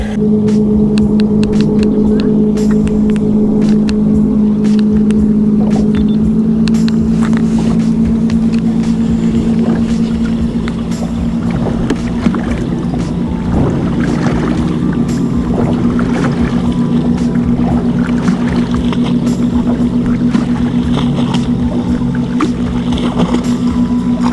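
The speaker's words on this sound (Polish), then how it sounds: "tu już za dużo tych motorówek, skuterów, wszystkiego, coraz więcej się robi jeszcze" Motorboats and jet skis running on a lake, a steady close engine drone holding for the whole stretch with a constant hum and faint water wash, no voices.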